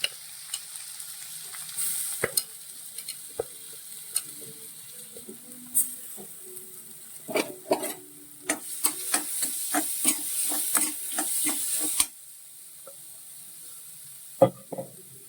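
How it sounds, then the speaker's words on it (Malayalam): A ground spice paste roasts in a pan for a spring onion stalk and prawn thoran, crackling and sizzling under brisk, clattering stirs that cluster midway, then the sizzle drops to quiet with a final lone scrape. "നമുക്ക് അരപ്പൊന്ന് മൂപ്പിച്ചെടുക്കാം"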